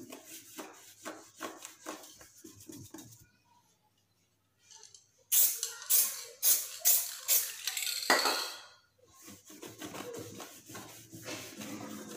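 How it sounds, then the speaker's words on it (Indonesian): Cloth rubbing sticker glue off a Yamaha Mio scooter body panel: repeated brisk scrubbing strokes, close and fairly loud, broken by a quiet pause before a faster burst of rubbing and then steadier wiping. "lalu kita gosok menggunakan kain"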